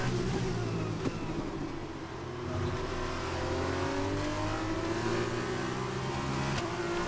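A Formula 1 race car in the F1 2021 video game at the rainy Austrian GP accelerates, its engine whine climbing steadily in pitch, fairly loud and continuous with no speech.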